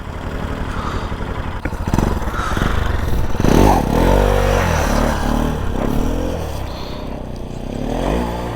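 A motorcycle circles in a stunt-riding practice loop, its engine droning and surging as the throttle is worked, with some clatter and scraping mixed in, close and fairly loud.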